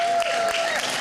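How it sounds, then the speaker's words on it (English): Brief audience applause at a recovery day event, a short wash of clapping lasting about a second, under a thin tone. "So give yourself a round of applause"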